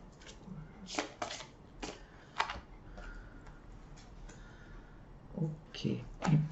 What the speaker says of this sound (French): Bien mélanger les cartes avant